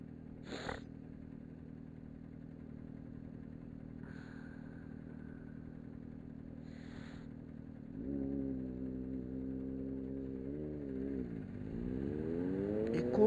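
Motorcycle engine from around 1991–92 idling low and steady, then revving up with rising and falling pitch toward the end, fairly close and moderately loud with no talk.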